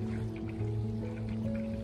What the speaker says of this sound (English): He hears the water going through the sump pump